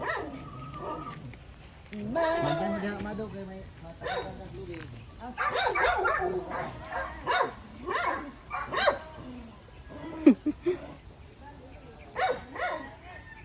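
A dog barks and yips several times in short bursts, close by, mixed with people talking over it.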